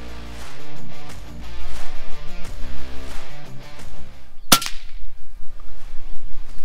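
One sharp shot from an FX Panthera air rifle firing H&N Barracuda pellets, a single loud crack cutting through continuous background music.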